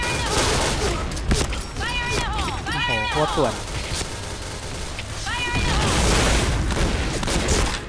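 An RPD light machine gun fires in a first-person shooter game's deathmatch, bursts of rapid gunfire and booms mixed with other in-game weapon sounds, while a player talks excitedly over the action.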